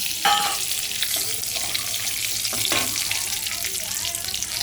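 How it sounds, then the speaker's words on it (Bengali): Bay leaf and black cumin (kalo jeere) crackling in hot oil in a kadai, a steady, close fry with soft stirring sounds and a few sharper pops, no voices. "এবার আমি কড়াইতে তেল দিয়েছি, দিয়ে আমি তেজপাতাটা ছেড়ে দিলাম"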